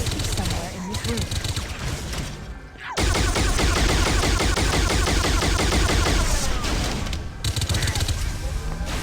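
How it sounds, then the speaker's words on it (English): A shade cannon in Halo SPV3 fires in a rapid, relentless stream of loud shots, nearly continuous for several seconds after a brief pause, with voices and game noise underneath. "This shade cannon is one of the satisfying weapons to use"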